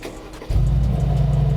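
A car engine cranks and catches after a brief quiet moment, settling at once into a steady, low, loud idle rumble close by.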